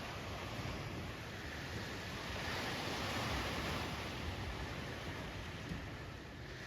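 Continuous surf washing onto a sandy, rocky beach at Borsh on the Albanian coast, a steady roaring wash with some wind, no voices.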